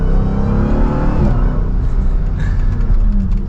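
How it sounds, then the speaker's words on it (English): A 2023 Dodge Durango SRT Hellcat's loud exhaust roars up close with a steady supercharger whine layered over the rumble, holding strong for a few seconds from inside the moving vehicle. "hopefully you were able to hear a little bit of that supercharger whine. You can hear that exhaust too"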